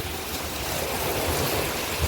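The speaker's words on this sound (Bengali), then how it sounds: "বৃষ্টি, ভারী বৃষ্টি বর্ষণ, একদম ভারী বৃষ্টি বর্ষণ।" Heavy rain pours down in Saudi Arabia as a dense, steady roar of falling water with no break, loud and close, with no voices.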